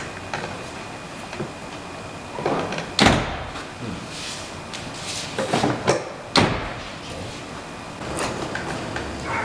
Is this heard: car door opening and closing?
yes